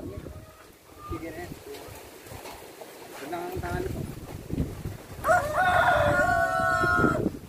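Hens cluck and voices murmur nearby on a farm, then a Rhode Island Red rooster lets out a loud, drawn-out crow near the end.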